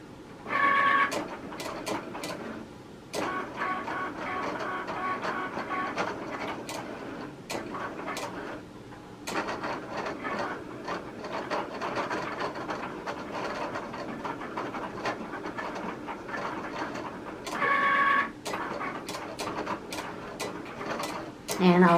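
A Cricut cutting machine draws and then cuts a craft project, giving a steady mechanical hum with a run of ticking clicks at a close, even level. Brief louder clunks come near the start and again near the end.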